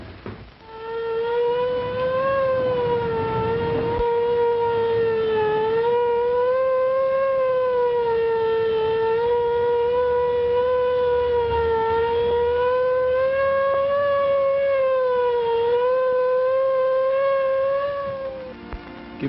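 A loud siren wails continuously, its pitch rising and falling in slow sweeps, sounding alone for most of its length before fading out.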